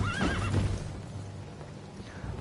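Horse neighing in Elden Ring, a loud, close whinny with a rising and falling pitch at the start, followed by a few hoof clops and quieter ambient game sound.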